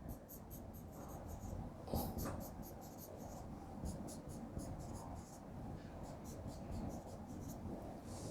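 Chalk or marker scratching on a board during a chemistry lesson, faint rapid strokes and taps repeating in short bursts over a steady low room hiss, with a soft voice murmuring underneath.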